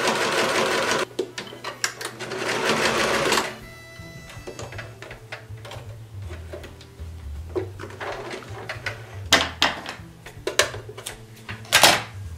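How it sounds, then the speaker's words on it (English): A sewing machine stitches a jacket seam, a dense buzzing run at first, then short stop-start bursts of stitching separated by clicks and handling noises close by. "So now I have to sew it together."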